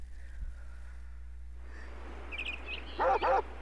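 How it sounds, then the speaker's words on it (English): A Chain Chomp in Mario Party 8 gives a pair of quick, bright barks near the end of the clip after a quiet stretch with faint game sounds and low hum. "Bark, bark, happy chomp, bark, bark."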